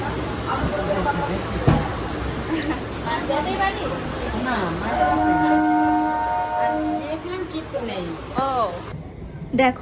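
A train rumbles past amid a busy crowd of voices, with a long tonal whine rising over the steady clatter before fading.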